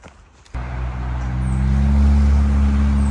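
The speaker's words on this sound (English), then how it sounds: "Lots of traffic noise here" Road traffic rumbles near a hiking trail on the Appalachian Trail: a steady low engine drone swells in after a short quiet moment and grows louder as a vehicle passes close by, with no talking.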